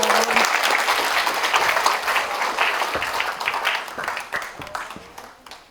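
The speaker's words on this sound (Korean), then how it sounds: "큰 박수 부탁드립니다." An audience at a public lecture claps loudly to welcome the speaker, a dense burst of applause that thins and fades toward the end.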